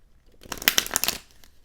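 Tarot cards being shuffled and drawn from a deck: a brief close flurry of papery riffling and slapping that lasts under a second, with quiet before and after.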